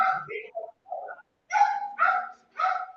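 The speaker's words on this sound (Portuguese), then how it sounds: "Tem um cachorrinho aqui atuando." A small dog barks and yips in short, sharp bursts, several in quick succession, heard nearby through an online meeting's audio.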